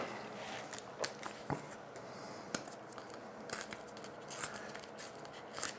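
Scissors snip through a strip of foil tape up close, giving a few sharp crisp cuts over a faint rustle, with no talking.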